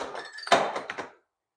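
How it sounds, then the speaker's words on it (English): A dog crate door swings shut during obedience training, making a few close metallic clunks and rattles in a quick cluster, with a sharp strike in the middle and then silence. "And I would close the door"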